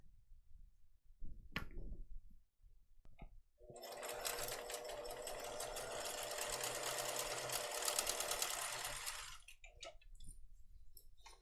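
A sewing machine stitches across the leather edge of a tote bag in one steady run of several seconds, with soft handling noises and clicks before and after.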